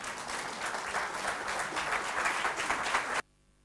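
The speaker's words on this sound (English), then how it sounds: "I think the big round of applause for excellent presentation." An audience at an international conference on prenatal development applauds after a presentation, a dense steady round of clapping that cuts off abruptly near the end.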